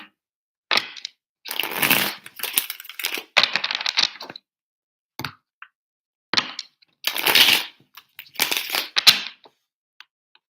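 Bursts of crisp tarot card shuffling come in irregular riffling clusters with short pauses between them, close and fairly loud, with no talking.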